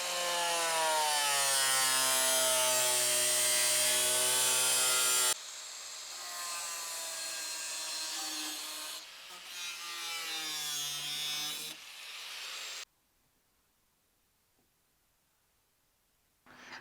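Loud, continuous power cutting into the hood of a BMW G82 M4 to open louver holes, a steady high whine with rising and falling pitch in several long passes, then silence.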